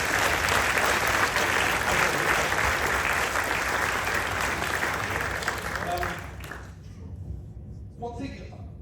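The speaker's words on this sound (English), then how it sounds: "So a round of applause for Ian as well" Sustained, full applause from a cinema audience at a post-screening Q&A for a Beatles bass documentary, loud for several seconds before dropping away abruptly, leaving a few scattered claps and faint voices.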